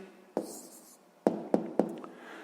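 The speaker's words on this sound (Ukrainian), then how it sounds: "Записуємо тоді відповідь." Pen writing down the answer to a sixth-grade maths word problem, heard as a few sharp, close taps and short strokes: one at first, then three quick ones in a row, with no talking.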